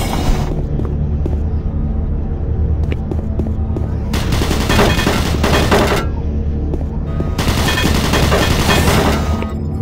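Automated turret guns in DOOM 3 on a monorail level rattle in rapid, loud bursts of machine-gun fire, two long volleys over a constant droning mechanical hum with a synthetic warning voice faintly underneath.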